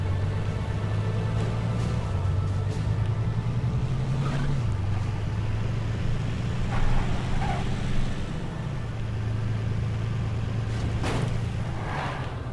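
Vehicle engine in the zombie survival game State of Decay Lifeline, a steady low drone that holds throughout with slight pitch shifts, close and continuous, with no speech over it.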